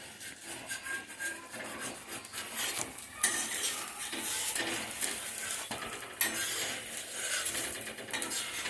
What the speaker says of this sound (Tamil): சுற்றி எண்ணெய் விட்டுக்கோங்க. தோசை வேகட்டும்.